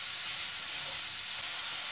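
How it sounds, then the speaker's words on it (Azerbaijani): Onion sizzles in a dry pan while being stirred, a close, steady hiss at moderate loudness with no one talking. "Və başlayırıq qarışdırmağa."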